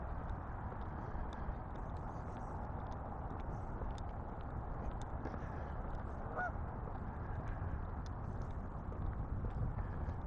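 Geese honk intermittently in the distance beside a lake in Regina on a hazy morning, over a steady outdoor background hiss, with a few brief calls standing out.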